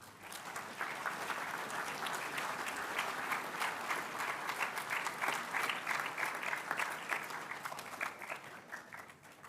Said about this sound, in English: Please give these boys a round of applause.